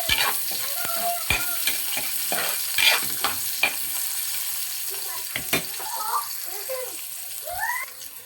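Onion and garlic frying in oil for spicy chicken feet, a soft sizzle broken by sharp clinks and scrapes of a spatula in the pan, with brief bits of voice in the background.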